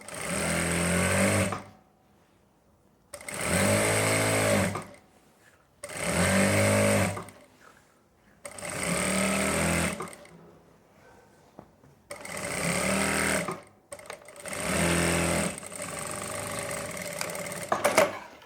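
Sewing machine stitching a palazzo pant, running in six bursts of two seconds or so, each a loud rapid mechanical whir separated by near silence.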